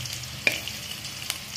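Sliced big onions, mustard seeds, urad dal and chana dal sautéing in hot oil for wheat rava upma: a close, continuous sizzle with a couple of quick scrapes from stirring, no talk.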